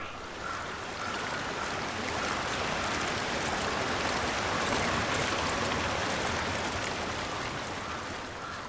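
Flowing stream water from the video game Hellblade, a steady, full broadband rush that stays loud and even throughout with no pauses or speech.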